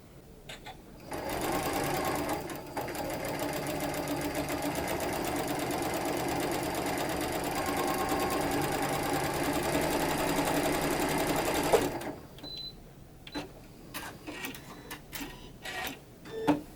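A sewing machine stitching quilt pieces together runs in a fast, steady rattling whir for about eleven seconds, then stops, followed by a few scattered clicks and light handling sounds.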